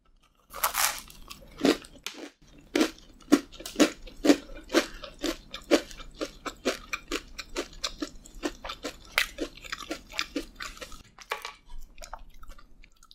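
Someone eating a Randy's Oreo Oz donut, with crisp close-up bites followed by a long run of soft rhythmic chewing in a quiet room.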